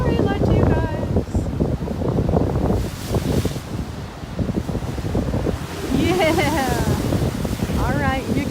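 Pacific Ocean waves wash and break on the shore with a broad rushing surge, buffeted by wind on the microphone, while people talk intermittently nearby.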